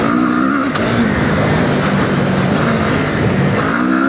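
A QJMOTOR SRT 450RX motorcycle accelerates on sand, its loud engine revving continuously and close for several seconds, with no pauses.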